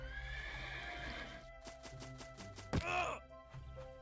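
Horses in the Minecraft video game neigh in a long, wavering whinny, with hoof clip-clops and other soft game sounds around it, fairly close and unaccompanied by speech.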